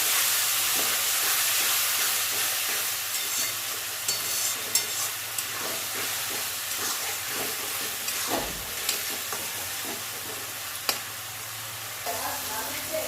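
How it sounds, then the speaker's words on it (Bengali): Spiced masala for a thin mutton curry fries steadily in a pan, a constant close sizzle and hiss broken by occasional scrapes and taps of the stirring spoon. "এবার মশলা ধোয়া জলটা দিয়ে দেবো, দিয়ে আবারও কষাবো"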